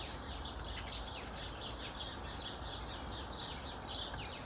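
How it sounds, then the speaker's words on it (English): Many small birds chirp and twitter continuously against a steady outdoor background hum, with no voices present. "I can hear loads of little birds, but I can't see any."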